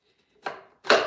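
A veggie wedger presses through halved potatoes, giving two distinct crunching chops about half a second apart, close and crisp against silence.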